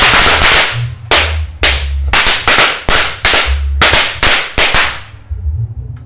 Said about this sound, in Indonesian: kita nyalakan semua mercon guys menyala semua